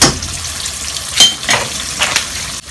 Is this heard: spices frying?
yes